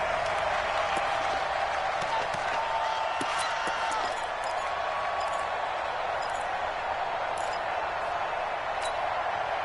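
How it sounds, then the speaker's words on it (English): Stadium crowd roaring in a football video game ahead of a big third down, a steady loud wash of cheering and scattered clapping throughout, with commentary voices on top. "the crowd getting into it as we come up on a big 3rd down"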